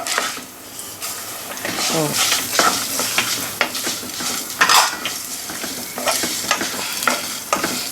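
Fenugreek and cumin seeds dry-roasting in a pan for Brahmin-style bisi bele bath spice powder, with a steady sizzle, scraping stirs and frequent clinks of a utensil against metal, close and fairly loud throughout.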